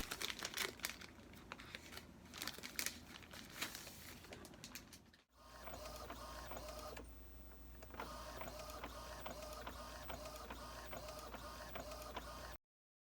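An inkjet-style printer feeds and prints on 220 GSM A4 calling card paper: paper rustles and grabs, then steady mechanical whirring and rhythmic carriage passes, close and continuous until it stops.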